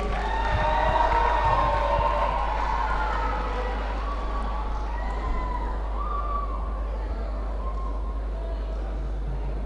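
A school audience at a Founders' Day celebration cheers and claps as a guest is welcomed, a dense crowd roar with whoops rising over a constant low hum.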